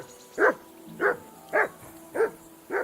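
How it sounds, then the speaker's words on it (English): A dog in the medieval role-playing game Kingdom Come: Deliverance II barks five times at an even pace, moderately close, with each bark short and separate and no voices in between. "That barking was a pain in the ass."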